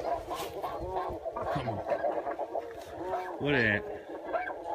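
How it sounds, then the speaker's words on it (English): Goose calls honk out in a few harsh, wavering bursts on a goose hunt, one louder burst near the end, mixed in among close, steady talk from people nearby. "No, that ain't the right type of goose."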